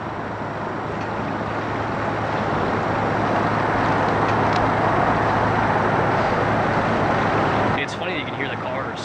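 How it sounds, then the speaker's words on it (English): Steady broadband roar of cars crossing the Bay Bridge overhead, heard from a sailboat passing beneath, a continuous dense rumble with a low hum, fairly loud throughout until a brief shift near the end. "It's funny that you can hear the cars."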